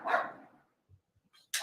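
Dogs bark indoors nearby, one loud burst at the start that fades, then faint short sounds and another sharp bark at the end.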